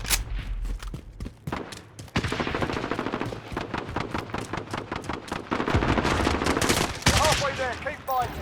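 Rapid video game gunfire, dense bursts of shots that could be a sniper rifle or automatic weapons, loud and close, with someone talking excitedly over parts of it.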